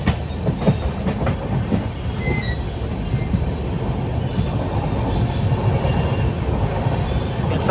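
A Humsafar Express train runs along the railway track beside a busy road, giving a steady, loud rumble of wheels and wagons throughout with a brief high squeal of wheels near the start.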